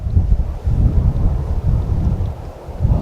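Gale-force wind on a golf course buffets the microphone in a continuous low roar with gusty surges and swells across all three seconds, loud and close, with no voices.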